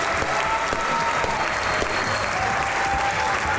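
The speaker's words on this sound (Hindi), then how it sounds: "आपकी भरपूर तालियों में, नुमान हबीब और अस्मान नुमान" A television comedy show studio audience greets two guests with loud, dense, sustained clapping and some crowd noise, continuous from start to end.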